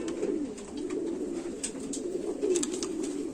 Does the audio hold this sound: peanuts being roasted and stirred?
no